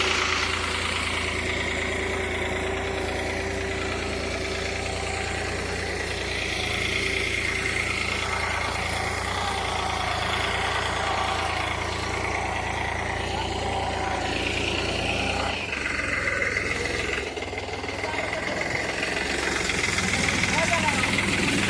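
A tractor engine idles in a steady, low chugging drone close by, while people talk over it; the tractor is stuck in mud.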